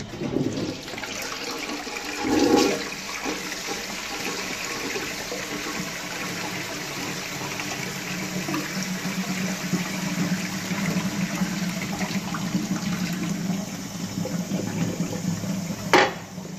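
A low-level toilet cistern flushes in an old public cafe washroom in Welland Park, a surge of rushing water followed by a long steady refill hiss and trickle, fairly close, ending with a brief clunk.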